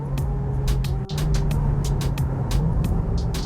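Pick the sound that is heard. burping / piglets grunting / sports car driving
sports car driving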